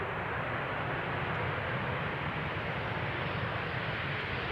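A KLM airliner arriving at Amsterdam Schiphol on runway 18R passes close by at speed, giving a steady, loud, broad jet roar with no voices.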